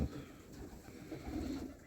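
Soft, low cooing from racing pigeons repeats close by in a pigeon loft, a murmuring throaty sound with faint background noise and no talking.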